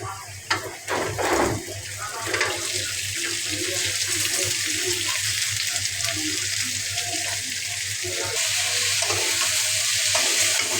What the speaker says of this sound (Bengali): এখন আম্মু নেড়ে ছেড়ে নিয়ে এখন আম্মু ঢেঁড়সগুলো দিয়ে দিবে